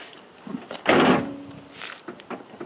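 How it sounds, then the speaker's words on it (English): A single solid thunk of a third-generation Camaro or Firebird car door shutting, a short muffled thud with a brief rattle, surrounded by quiet handling noises. "Let's shut the door."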